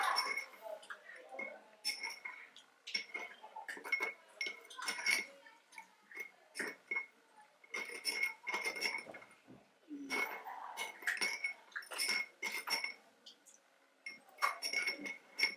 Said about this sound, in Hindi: इस सॉल्यूशन को आप किसी भी चम्मच से मिक्स